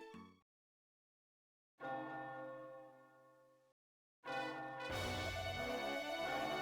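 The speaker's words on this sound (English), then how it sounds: "Listen to that bell ring" A goal bell in the Dragon Quest Monsters: Joker video game rings in separate chimes: a short strike, then a long sustained ring that slowly fades, then a brighter ring that swells louder with other game sounds at the end.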